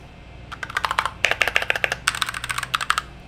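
Fingers type on a 60% layout computer keyboard, close and crisp, in quick irregular bursts of clacking keystrokes with short pauses between runs.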